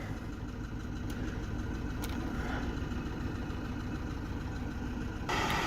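Steady low rumble of a 1989 BMW E30 316 engine idling, even and constant, with a faint clicking near the end and no talking.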